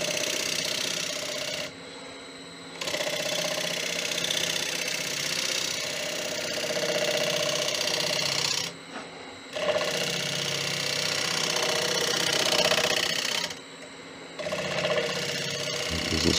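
A wood lathe spinning near 950 rpm takes a finish cut on a punky, soft-rotted bowl, a steady loud whirring drone with tool scraping, broken by three brief pauses where the cut stops.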